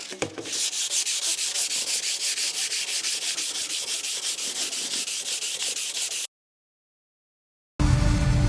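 The exhaust of a TVR 3000 M is rubbed and polished by hand in fast, even back-and-forth strokes. The scrubbing is steady and close for about six seconds, then stops, then briefly resumes after a short silence.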